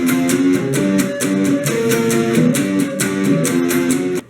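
Guitar playing the second- and third-verse part of a song: a bright, rhythmic, repeating chord riff with steady strummed attacks, loud and close, with no voices.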